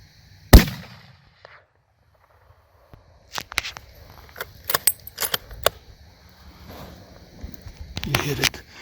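A single sharp rifle shot cracks out early during a cow hunt at an Arizona homestead, then trails off into quiet. Scattered clicks, rustling and people talking follow.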